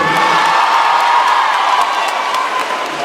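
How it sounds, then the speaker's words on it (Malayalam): An audience at a film event in Kerala cheers and whoops in a sustained roar of applause for a music band and dance team, loud and continuous with scattered shouts throughout. "ആദ്യം തന്നെ നമ്മുടെ മ്യൂസിക് ബാൻഡിനും ഡാൻസ് ടീമിനും ഒരു വലിയ കയ്യടി കൊടുക്കാല്ലേ."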